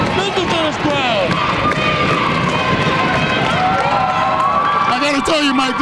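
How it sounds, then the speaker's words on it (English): A loud crowd roars at a girls high school basketball championship game in the Capitol Region Athletic League, a continuous wall of cheering and yelling with sneaker squeaks and ball bounces cutting through. "Listen to this crowd."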